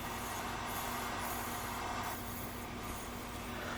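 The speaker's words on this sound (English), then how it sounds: "hollowing out the inside of the bowl, nothing too exciting here, just using the bowl gouge" A bowl gouge hollows out the inside of a wooden bowl spinning on a lathe, giving a steady, continuous cutting hiss over a low motor hum throughout, with no voices.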